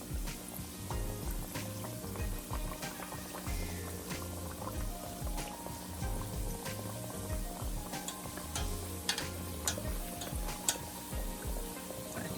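Jamaican fried dumplings bubbling in hot oil in a pot, a steady crackling sizzle with scattered sharp pops, fairly faint and close, without speech.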